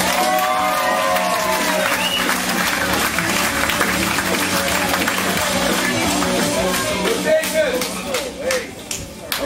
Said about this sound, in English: please give a round of applause and your undivided attention to Jason Groce.